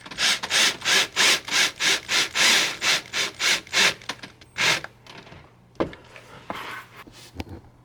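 A drill drives self-tapping screws into a plastic or fiberglass front splitter on a C7 Corvette Grand Sport. A quick run of regular grinding bursts gives way to sparser, irregular scrapes and clicks, close up and with no talk.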